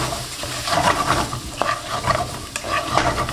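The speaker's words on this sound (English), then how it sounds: "Now give that a really good mix and let it cook for another minute." Chips coated in tandoori masala are stirred in a hot pan, with a steady sizzle, scraping stirs and occasional clinks up close, and no talking.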